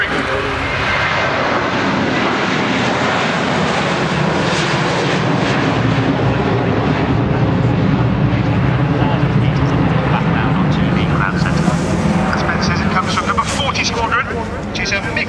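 An RNZAF Boeing 757-200 jet at the RIAT 2010 airshow roars loudly and steadily as it passes, with a voice talking over the continuous engine noise.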